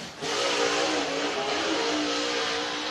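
A race car engine at speed on a short-track oval during a qualifying lap at Whynot Motorsports Park's Fall Classic, a loud, sustained high-pitched roar that swells sharply just after the start and holds steady close by.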